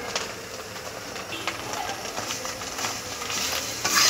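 Tamarind fries in hot oil in a pan, giving a steady close sizzle with light stirring scrapes that swell slightly louder near the end.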